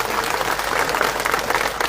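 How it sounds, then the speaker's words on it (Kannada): A crowd at a farmers' rally in Ramdurg taluk breaks into loud, sustained applause, a dense even clatter of many hands clapping at close range with no speech over it. "ಎಲ್ಲರಿಗೂ ಜೋರಾಗಿ ಚಪ್ಪಾಳೆ ಮಾಡ್ತಾರೆ"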